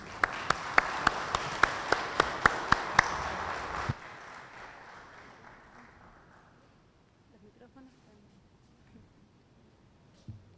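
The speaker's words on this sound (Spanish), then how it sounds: "Un fuerte aplauso para Marcos y Lourdes." Applause rises at a Catholic family day gathering, with a loud, sharp rhythmic tapping of about a dozen evenly spaced hits over the crowd for four seconds before it cuts off abruptly, leaving faint room noise and a few small knocks.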